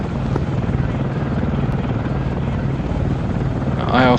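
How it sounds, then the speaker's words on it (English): A Chinook helicopter touching down in Arma 3 gives a loud, steady rotor drone and engine roar that fills the whole stretch, and a brief voice cuts in at the very end. "Chinook's on the ground"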